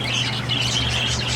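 A small pet bird bought from a pet shop chirps continuously over a low steady hum, producing thin, close, high tweets.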